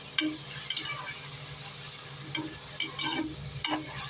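Cashew nuts frying in a pan as they are stirred, scraping stir strokes and a low sizzle recurring in short bursts, near and fairly quiet, with no talking.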